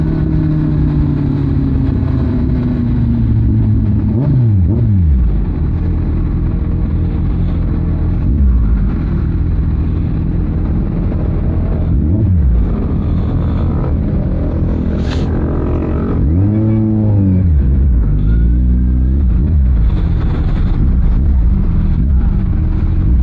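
Cars and motorbikes pass on a provincial road, engines sweeping by one after another with rising and falling pitch, some close and loud, over constant traffic rumble.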